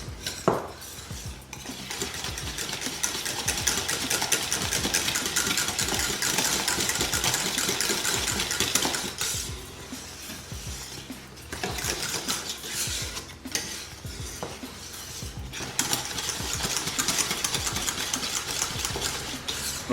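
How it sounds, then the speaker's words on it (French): Whisking a thickening cream mixture near boiling in a pan for a strawberry charlotte, giving a steady, busy metallic scraping and clatter throughout with brief softer pauses. "Donc là, je vois que ça commence à épaissir, on n'est pas loin de l'ébullition. Je continue évidemment à fouetter."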